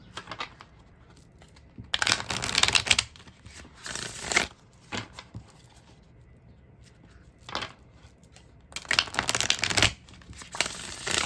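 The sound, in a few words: shuffling tarot cards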